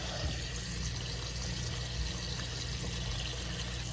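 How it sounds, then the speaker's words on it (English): Water runs steadily from a tap, a quiet, even rushing hiss with no voices. "Sounds like water's going in the house."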